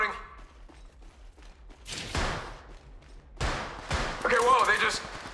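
Gunfire in the mobile shooter Apex Legends Mobile: two sharp bursts of shots, the second longer and louder, over quieter game ambience while a player talks.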